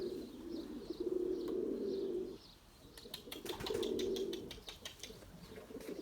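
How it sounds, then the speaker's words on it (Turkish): Pigeons on a roof give low, soft cooing phrases, two drawn-out bouts close by, with a patch of light flutter and clicks between them. "Bakın geldi hemen kuş."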